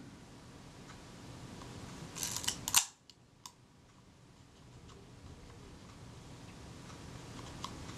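A Kodak Retina Ib camera with a faulty front door clicks as its shutter release is pressed, giving a short burst of small mechanical ticks close up and then a quiet, near-silent pause in a still room.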